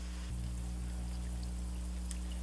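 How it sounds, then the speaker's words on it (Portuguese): Faint, steady fizzing and crackling as hydrogen peroxide reacts in water around the roots of a bonsai tree, with a low hum underneath. "É a reação da água oxigenada."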